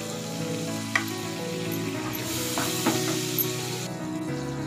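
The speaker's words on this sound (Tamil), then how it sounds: "எண்ணெயில் இப்போ இதில் நம்ம எடுத்து வச்சிருக்க பட்டாணியை சேர்த்துக்கலாம்." Green peas frying in oil with turmeric in a pan for a matar paneer gravy, giving a steady close sizzle with a few light stirring clinks and no talking.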